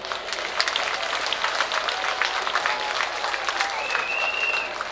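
Audience applause at a speech about the state oil company, a steady wash of dense clapping from a crowd that holds at an even level throughout.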